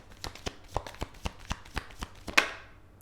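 Tarot cards are laid down one after another on a table in about ten soft, crisp taps at a steady pace, ending with a sharper slap near the end, with no talking.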